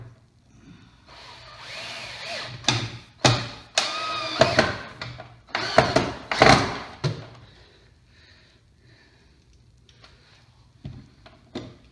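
Drill driving a screw into wood in a woodworking shop, giving several short whirring bursts with pauses between them, loud and close, with quieter ticks and shuffling afterward.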